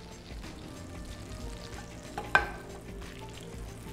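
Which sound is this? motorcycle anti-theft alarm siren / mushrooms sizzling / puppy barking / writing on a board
mushrooms sizzling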